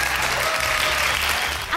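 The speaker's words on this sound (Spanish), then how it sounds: "¡Aplausos, por favor!" Brisk applause from an audience fills the short stretch, dense and even, with a faint low voice beneath it.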